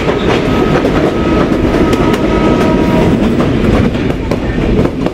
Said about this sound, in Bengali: এটা হচ্ছে মহানন্দা কমিউটার ট্রেন।